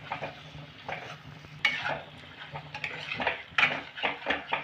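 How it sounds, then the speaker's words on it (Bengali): Pointed gourd (potol) pieces, already fried, are stirred into a cooked-down spice paste in a pan over a medium gas flame, with quiet frying beneath repeated clinks and scrapes of a spatula against the metal. "এবার আমি ভেজে রাখা পটলটা দেব মশলার সাথে। মশলার সাথে পটলটাকেও আমি একটু কষে নেব।"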